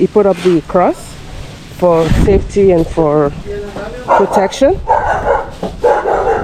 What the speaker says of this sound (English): that is my neighbor's dog that's always barking.